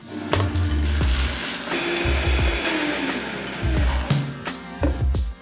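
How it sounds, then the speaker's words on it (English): A blender on high whirs loudly, its motor droning steadily with uneven surges as a ramp (wild leek) puree churns, running continuously without pause. "Put the lid on and blend on high."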